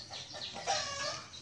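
Backyard chickens cluck softly nearby, a few brief murmuring clucks close to a feeder, with no one talking.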